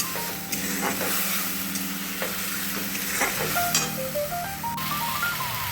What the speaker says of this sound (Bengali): আমার মশলা থেকে প্রায় তেল ছেড়ে গেছে সুন্দর কষাই হয়ে গেছে